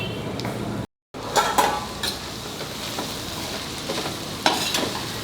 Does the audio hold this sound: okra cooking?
yes